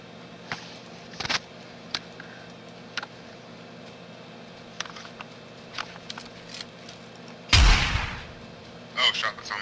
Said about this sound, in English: Sounds like people are shooting at it.